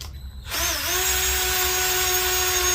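A handheld power drill with a bit, used during a Honda B18 engine rebuild, whirs up from quiet after a brief pause into a loud, steady high-pitched motor whine held close by.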